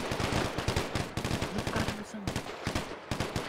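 Rapid gunfire bursts from a GTA-style roleplay island event game, dense repeated shots loud and continuous throughout, with faint speech underneath.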